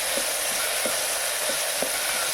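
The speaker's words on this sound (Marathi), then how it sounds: "आता हे दोन ते तीन मिनटं आपण चांगलं परतणार आहोत" Chopped green chillies sautéing in a pan, a steady bright sizzle with soft stirring scrapes repeating roughly every half second, close and continuous with no talking.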